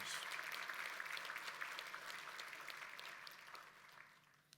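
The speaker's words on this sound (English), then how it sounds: "Please give Deborah a round of applause." Audience applause at a Victoria University graduation ceremony, a steady wash of clapping from a seated crowd that gradually tapers off near the end.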